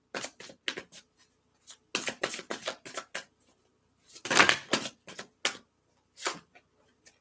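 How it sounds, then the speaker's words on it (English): Tarot cards shuffled by hand in a run of crisp, papery riffles and slaps, coming in short irregular bursts with brief pauses and one longer, fuller riffle near the middle, close and fairly quiet. "let's give it a couple good shuffles first."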